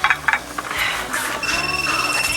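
A mobile phone rings in a busy restaurant, its bright electronic ringtone warbling in steady repeated pulses, loud and close, over faint background chatter.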